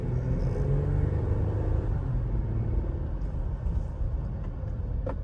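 A Jeep rolling on 35-inch tires without recalibration gives a steady low road and engine rumble inside the cab, fairly loud and constant, easing slightly toward the end.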